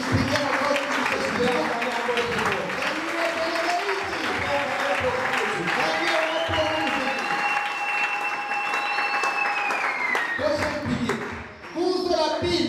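A church congregation claps together in sustained applause, a steady dense wash of many hands with voices mixed in, tapering off near the end before a brief pickup.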